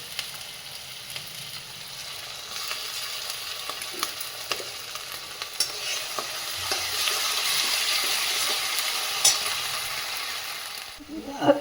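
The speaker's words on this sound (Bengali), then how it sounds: "পেঁয়াজ রসুন কাঁচা লঙ্কা সব দিয়ে মশলাটা এখন কষবো।" Onion, garlic and green chili masala paste, with ginger paste, fries and sizzles in a pan with steady crackling and occasional stirring clicks, moderately close, with no talk.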